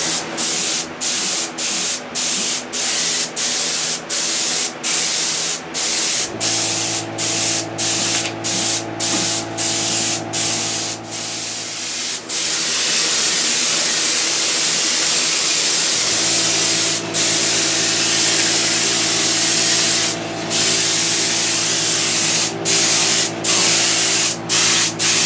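Aerosol-style spraying of 2K clear coat onto a small Bugdroid model, loud continuous hissing bursts with short pauses between passes, repeated over and over, no talk.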